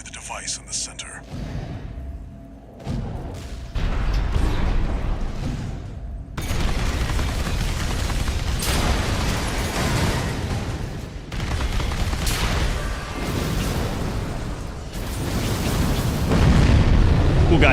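Deep, rumbling booms from explosions in Armored Core roll on almost continuously, loud and dense, with a voice talking over parts of it.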